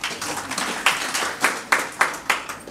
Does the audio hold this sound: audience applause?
yes